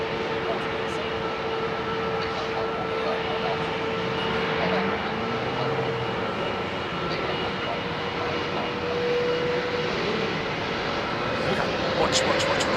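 An Airbus A350 airliner departs at London Heathrow, its engines making a broad, steady roar that holds loud and even throughout, with a faint tonal whine on top and voices mixed in at times.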